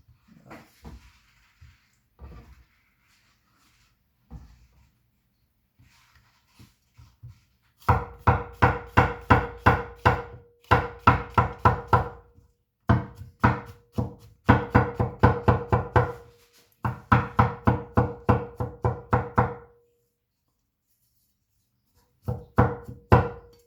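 A Deng TA-03 Chinese cleaver chops mushrooms on a board. Several bursts of quick, sharp, evenly spaced chops come close and loud, with quiet pauses between them and a few scattered knocks before the first burst.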